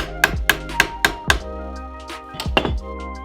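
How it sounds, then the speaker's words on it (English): A hammer peens a copper rivet with sharp, ringing metallic strikes: five evenly spaced blows, a pause, then two or three more, each tapering into a short ring. "Then we peen it."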